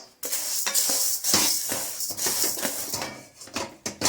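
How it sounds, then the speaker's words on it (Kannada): Roasted urad dal tipped into a pan of chana dal, with scraping and clinking of utensil against pan and a faint sizzle, close and fairly loud in irregular bursts, no voices. "ಈಗ ಉದ್ದಿನಬೇಳೆನೂ ಈ ಕಡಲೆಬೇಳೆ ಪಾತ್ರೆಗೆ ಸೇರಿಸ್ಕೊಂಡ್ಬಿಡ್ತಾ ಇದ್ದೀನಿ"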